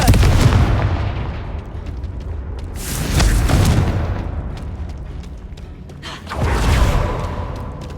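Confringo blasting spells exploding in the Hogwarts Legacy video game, three loud booming bursts with rumbling decay, each swelling and fading into the next amid continuous crackling debris and roar.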